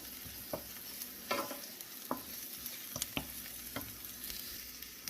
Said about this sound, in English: I'm going to go in with some onion. Toast your onion for just 60 seconds.